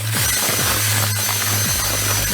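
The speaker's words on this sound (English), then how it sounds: "So I'm just going to do it by drill initially." A handheld drill mixes Terre de Somme groundbait as water is sprayed in, giving a loud, steady motor hum with a constant whirring drone that stays close and continuous throughout.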